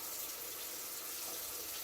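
Tap water runs steadily into a cooking pot in a home kitchen, a continuous close hiss and splash with no breaks or talking.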